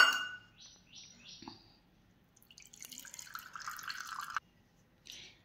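Soaking water is poured off soaked barnyard millet and sago, a short run of drips followed by a faint, splashy trickle that stops abruptly, with a brief voice near the start.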